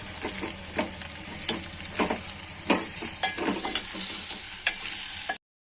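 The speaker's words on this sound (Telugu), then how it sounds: "ఇప్పుడు కలపాలి." Onion paste, cloves and spices are stirred in a hot pan for Telugu-style chicken fry, a spoon scraping in irregular strokes over a steady close sizzle of frying.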